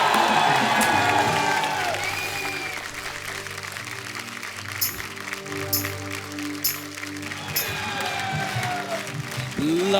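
A large crowd applauds and cheers loudly at a stage show welcoming singer Udit Narayan, with whoops and shouts rising over continuous clapping; a voice speaks through the noise.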